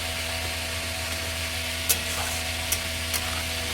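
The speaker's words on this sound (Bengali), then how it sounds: "মশলাটাকে আমি এখন ভালো করে কষাবো" A masala paste of onion, garlic, ginger and tomato being stir-fried in a pan, with a constant close sizzling hiss and a few faint scraping taps from the stirring.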